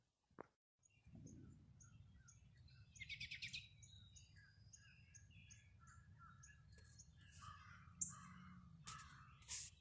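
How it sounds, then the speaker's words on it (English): Birds calling at about 7 in the early morning outdoors, with crows cawing nearby alongside chirps and tweets from other birds, over a low steady background rumble, no talk. "Just wanted to absorb the birds for a few minutes there."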